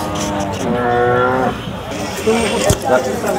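A cow lets out a long, low moo close by at the Sangola cow market in Maharashtra, followed by outdoor background noise and some talking.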